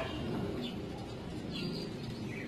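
Tippler pigeons at a loft give soft, low cooing calls, faint and somewhat distant, with a few light chirps over quiet outdoor background.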